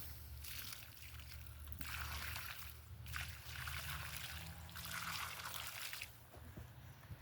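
Water trickles and splashes from a muddy or rusty pipe onto the soil around a young fig tree, in a steady flow that swells and eases in several pulses, close and fairly soft.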